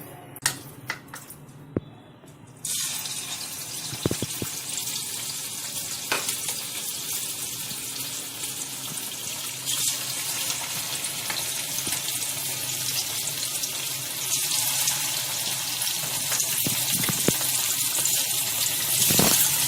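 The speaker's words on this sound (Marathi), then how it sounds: "आता आपण याला डीप फ्राय करून घेणार आहोत. हे तेल आता तापलेलं आहे." Chicken deep frying in hot oil, a quiet start and then a steady dense sizzle that swells slightly over about twenty seconds, with occasional sharp crackles and pops close by and no voices.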